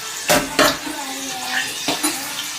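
Cooked sambar being moved into another pot in a home kitchen: a couple of sharp metal clanks of ladle against cookware, then softer scraping and a final clink, close by with no talking.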